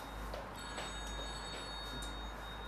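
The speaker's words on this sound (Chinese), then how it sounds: "你的手机响了？" A mobile phone rings faintly in a home during a meal in Hefei, a quiet repeating electronic tone over low room hum. No voices are heard.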